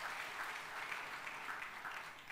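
A church congregation at a revival meeting applauds: a dense, even patter of many hands clapping, fairly faint and distant, held at a steady level throughout.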